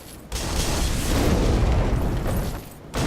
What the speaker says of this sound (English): here's where I can show off the fire bombs at their best